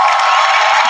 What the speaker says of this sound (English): we have our applause machine